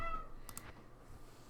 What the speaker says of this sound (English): Yeah, my cat.